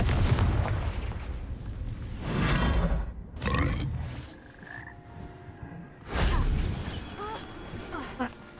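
Confringo spell casts in Hogwarts Legacy: repeated blasting bursts with booming low rumbles and fiery crackle, each followed by a magical sparkling tail, with quieter effects between the explosions.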